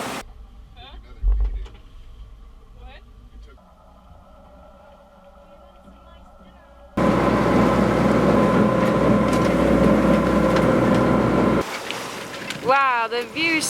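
A sailboat under a big genoa sails off Roatan in the Bay Islands of Honduras, with a rush of wind and water that turns much louder and broader halfway through, ending with brief chirping sounds.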